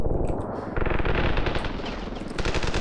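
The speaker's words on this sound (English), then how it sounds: "Who's shooting?" Rapid automatic gunfire in the battle game Ravenfield, dense rattling bursts that run almost continuously at close range with echoing reports and no talk.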